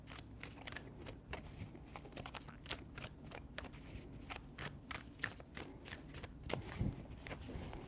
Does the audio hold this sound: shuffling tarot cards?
yes